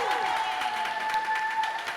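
A crowd applauds at a camp Shakespeare showcase, dense clapping washing along under a sustained tone and some voices, fairly close and even throughout.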